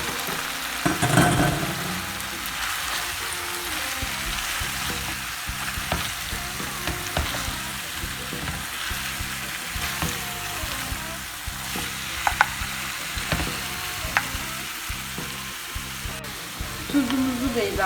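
Sliced zucchini sizzles and fries steadily in a pan with tomatoes and tomato paste as it is stirred, giving a continuous close crackle with occasional scraping.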